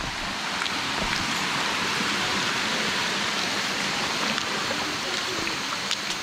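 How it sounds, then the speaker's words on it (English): Heavy rain pours in the Colo-i-Suva forest reserve in Fiji, a dense, steady hiss of drops on foliage with occasional louder splats, close and continuous. "Just my luck, it starts raining."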